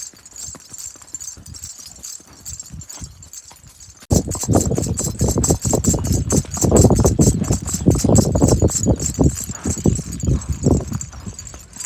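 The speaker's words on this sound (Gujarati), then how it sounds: "ઘોડીને ધીમી એકવી પડે એમ છે." A mare's hooves clip-clop in a quick, even rhythm, quieter at first and then louder and closer, with a faint jingling above.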